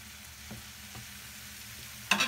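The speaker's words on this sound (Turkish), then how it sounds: "İçerisine şöyle bir parça tereyağı ekliyorum." Butter added to a pan of sautéed mushrooms melts and sizzles steadily, with faint stirring taps and a brief louder scrape near the end, no voices.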